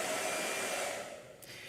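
A handheld blow dryer runs close by with a loud, steady rushing whir that eases slightly toward the end.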